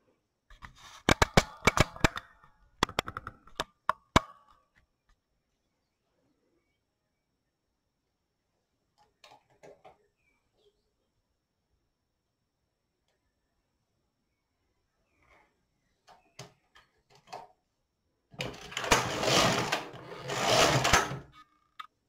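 Brother LK 150 knitting machine carriage pushed across the needle bed while knitting a sleeve for a small baby cardigan: rapid clattering runs at the start, long quiet gaps with faint clicks, then two dense rasping sweeps near the end.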